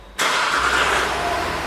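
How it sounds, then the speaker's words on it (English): A Jaguar XF 3.0d diesel with a cutting-out fault is cranked and fires after a quiet start, then settles straight into a steady, fairly loud idle close by. "I'll just try and start it."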